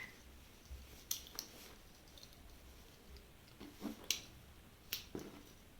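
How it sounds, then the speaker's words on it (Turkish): Sharp metallic snips of small scissors from an earthquake emergency kit, a few separate crisp clicks spread irregularly over a quiet background, close to the listener. "bir makası var."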